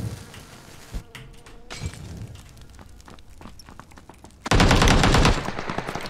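M24 sniper rifle fire in PUBG, a few sharp isolated shots spaced apart, followed by a loud dense burst of gunfire near the end.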